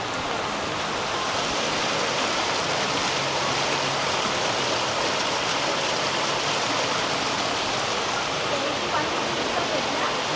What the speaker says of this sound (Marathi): आवाज बघा किती येतोय पाण्याचा